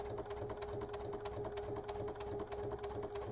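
A sewing machine stitches a fabric heart garland, its quiet rapid needle clatter running steadily with a faint constant hum, with no talking.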